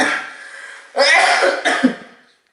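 A cough after a mouthful of honey: a close, loud, rough burst followed by a second shorter hack, preceded by a breathy voiced exhale and ending in silence.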